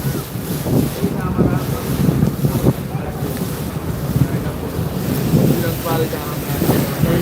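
Two passenger launches, one named Imam Hasan, approach on the river, heard from the deck of the Eagle 7 launch as a low engine and water rumble under heavy wind buffeting the microphone.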